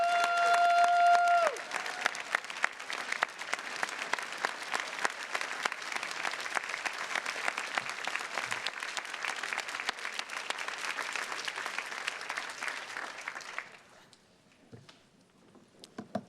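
An audience at the 2024 Harvard Alumni Day applauds the Harvard Medalists in a dense, steady wash of clapping that lasts about thirteen seconds, then quickly fades into a quiet hall.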